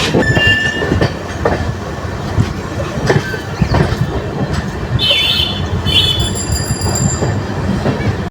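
The 12885 Aranyak Express with new LHB coaches runs from Shalimar toward Bankura, its wheels rumbling and clacking steadily over the rails with occasional high wheel squeals, loud and close throughout.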